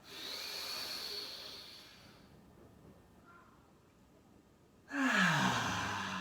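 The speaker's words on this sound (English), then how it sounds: "Let's take 3 deep breaths in through the nose, audible exhale through your mouth." Deep breaths with an audible mouth exhale during a gentle Kripalu yoga practice: a long breathy exhale at the start fades into quiet, then a loud rushing breath surges in near the end, close to the listener.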